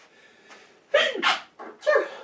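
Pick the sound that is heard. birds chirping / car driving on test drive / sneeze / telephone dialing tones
sneeze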